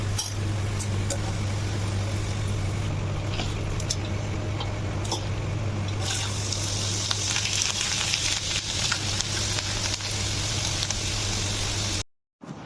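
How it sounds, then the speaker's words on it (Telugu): Moong dal deep frying in hot oil gives a constant bubbling sizzle over a low steady hum, with occasional soft clicks and a brief dropout near the end. "ఇలా పప్పు మొత్తం డీప్ ఫ్రై చేసుకున్న తర్వాత"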